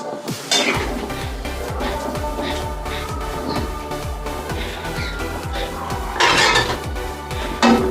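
A metal cooking pot of simmering fish curry is clinked and covered with its lid, giving sharp metallic knocks and scrapes over a steady bubbling and kitchen hum.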